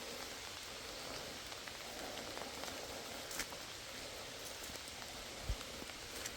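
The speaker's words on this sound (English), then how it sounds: "And it's been downpouring the whole time" Heavy rain pours steadily through woods on a rainy evening, a dense even hiss with scattered heavier drops and taps, continuous and close, with no voices.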